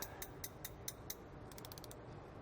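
A torque wrench ratchets as it tightens the fuel filter bowl on a GEnx 1B engine, with a row of crisp, evenly spaced clicks that quicken into a fast burst, close and fairly quiet.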